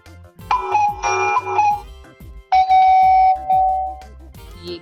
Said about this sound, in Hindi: घर की घंटी की आवाज है